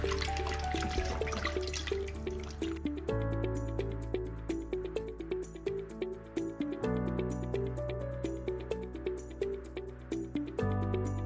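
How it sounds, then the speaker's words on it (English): Cold tap water runs steadily over raw salted chicken in a kitchen, a continuous splashing trickle broken by shifting clatter and dripping as the pieces are turned under the stream. "run it over some cold water. We're just going to give that a rinse."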